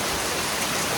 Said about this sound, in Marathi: जाम पाऊस आहे